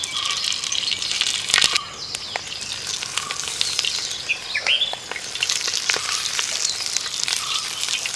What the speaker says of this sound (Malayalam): കുറച്ച് എണ്ണ ഒഴിച్ചിട്ട് നമ്മളിത് ഇതിൻ്റെ അകത്തോട്ട് നമ്മൾ പൊതിഞ്ഞെടുത്ത് മീൻ വെച്ച് കൊടുക്കുകയാണേ.